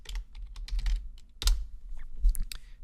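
Rapid bursts of keystrokes on a computer keyboard, clattering in uneven clusters with short pauses, close and moderately loud with no voices.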